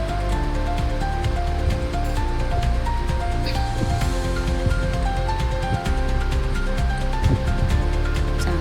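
Chicken liver stir-fried dry in a hot pan with spices and no water, Agri-style kaleji fry; a steady, close sizzle and crackle runs unbroken throughout, with a faint low hum underneath.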